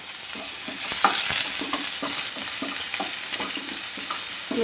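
Onion, green chili, garlic and ginger fry in a pan with whole cloves, cardamom and dried red chili, giving a steady loud sizzle broken by regular scraping stirs, close and continuous with no voices.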